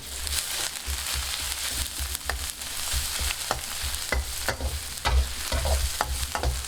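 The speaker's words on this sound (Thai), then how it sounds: "พัดกระเทียมพริกให้หอมก่อนนะครับ" Pounded garlic and fresh chili stir-fried in a pan, a steady close sizzle with repeated scraping and clacking of the spatula as it is stirred, no talking.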